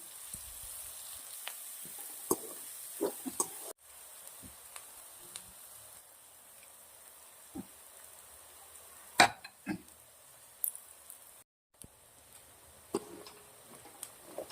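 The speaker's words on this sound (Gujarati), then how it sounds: "ડુંગળી શેકવા આવી ગઈ છે સરસ મજાની" Chopped onions frying in a pan for a Gujarati kaju and fresh turmeric curry give a soft, steady sizzle with scattered crackles and occasional stirring knocks, fairly quiet and close.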